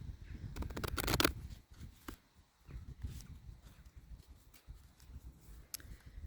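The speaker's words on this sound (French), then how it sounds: "Donc on va tirer une dernière carte pour cette nouvelle lune" Oracle cards are shuffled and drawn by hand, a quick riffling flutter of cards followed by soft, faint taps and slides at close range.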